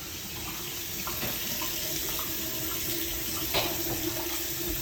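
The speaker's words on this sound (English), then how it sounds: "My water's working." Hot water runs steadily from a tap into a sink in a house during a walkthrough, a constant close hiss with faint background knocks and no talking.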